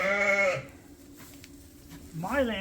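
Two drawn-out bleats from pre-dipped lambs readied for a show, one at the start and another near the end, separated by a quiet stretch with a low steady hum beneath.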